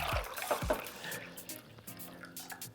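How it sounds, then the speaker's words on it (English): Tap water poured back into a measuring cup, a short faint splash and trickle with a few drips trailing off as the stream thins. "I'm also gonna pour the water back into a measuring cup"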